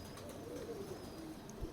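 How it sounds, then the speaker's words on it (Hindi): Desi Allahabadi pigeons coo faintly in a low, soft murmur over steady outdoor background noise, with no talking. "ये भैया के यहाँ के बहुत ज़्यादा उड़ने वाले कबूतर हैं"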